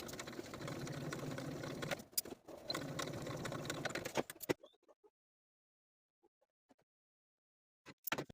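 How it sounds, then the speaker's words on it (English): A sewing machine stitching darts, a fast loud mechanical whir running steadily for about four seconds with a brief pause midway, then near silence broken by faint clicks and a short burst at the end. "take them to your sewing machine and sew from the top to the point"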